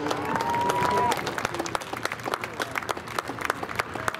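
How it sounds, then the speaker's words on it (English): Crowd applause at a Seekonk Speedway podium ceremony after a Sportsman feature race, scattered, distinct claps heard at a distance, underneath background noise and a brief tone early on. "How about a round of applause for our podium, ladies and gentlemen?"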